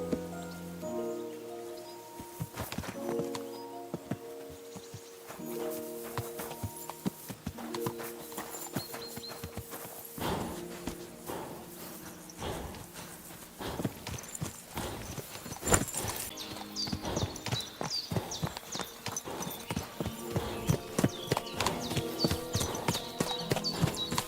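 Horse hooves clip-clop steadily in Kingdom Come Deliverance 2, a continuous rhythmic walking beat over soft background music that grows busier and louder toward the end.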